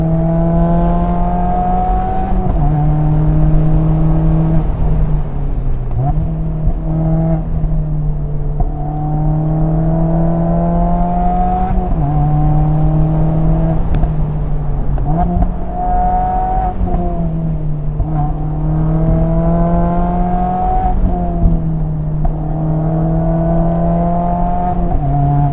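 A lightly modified Mazda Miata drives and accelerates, its engine note climbing repeatedly through the gears with clear stepped rises and drops at each shift, loud and close with no talking.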